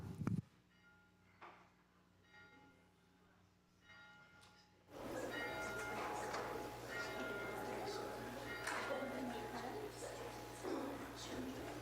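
A bell rings once at the start of a church service at Unity of Kanawha Valley, a single sharp strike that fades, followed by a louder stretch of room noise with indistinct voices.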